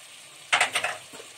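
Onions being stirred as they fry in a pan, a brief cluster of close scraping and sizzling strokes lasting under a second, then a faint tail.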